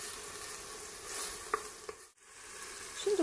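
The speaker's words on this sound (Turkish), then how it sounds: "Salçamızın kokusu çıkana kadar kavuralım." Tomato paste frying in a pot for a meat and dried white bean stew, a soft continuous sizzle with scraping stirs of a spoon and a few small pops, close and fairly quiet.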